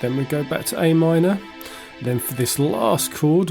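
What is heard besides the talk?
No everyday noise stands out behind the speech.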